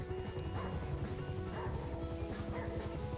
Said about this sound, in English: And listen to his barking.